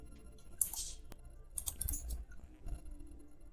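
Keys clatter on a computer keyboard in a few short bursts of typing, close and fairly quiet, with pauses between the strokes and no voices.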